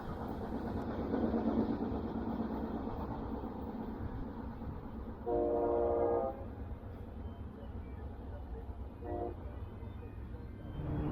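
An FEC freight train hauling two loaded gondolas rumbles past at a distance, a steady low roll with two short horn toots partway through.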